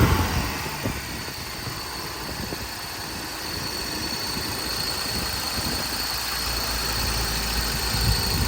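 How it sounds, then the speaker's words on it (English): A Toyota 22RE engine idles steadily, slightly fast, with a low, even rumble and slight vibration, continuous throughout and close by. "It was idling a little bit fast."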